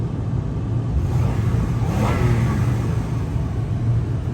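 A 2002 Acura MDX engine runs at a steady idle with a low, continuous rumble, holding an even pitch throughout with no talking.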